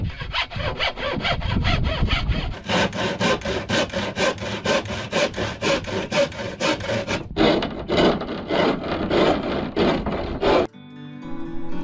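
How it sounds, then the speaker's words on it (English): A hand saw cuts wood during a camper van build, rhythmic back-and-forth rasping strokes in quick regular succession, loud and close, with a brief pause partway and a change of pace near the end. "While I was busy out there chopping wood and cutting and sawing and filing and trying to make things fit together, Marvy was busy inside"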